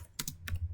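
Quick burst of keystrokes on a computer keyboard while entering an SSH command, a few crisp close clicks in under a second, quiet and without talk.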